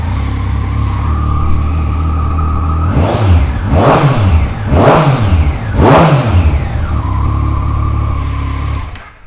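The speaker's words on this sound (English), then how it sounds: "an awesome sounding GPR exhaust, which I'll start up for you now." A 2014 Yamaha MT09 ABS motorcycle with an R&G-protected engine and GPR exhaust idles loudly, then three sharp revs rise and fall in quick succession before it drops back to a steady idle and cuts off at the end.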